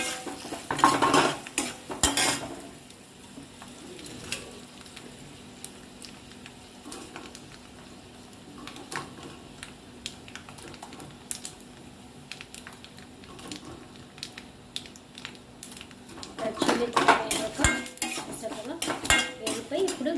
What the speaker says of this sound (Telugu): మినపప్పు వేగాక రెడ్ చిల్లీ ఫ్రై చేసుకోండి